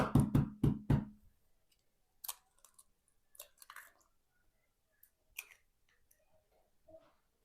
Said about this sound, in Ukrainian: Вбиваю одне яйце.